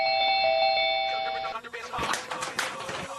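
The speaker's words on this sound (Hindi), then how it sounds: "घंटी को बजा रहा हूँ।" A household doorbell rings with a steady electronic chime of repeated tones, close and clear, before it cuts off and voices begin talking over some rustling movement.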